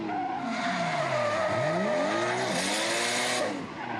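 Drift car at an FDJ2 qualifying run sliding through the course, with loud, continuous tire squeal that rises and falls in pitch over a roaring, revving engine, close by and with no talk.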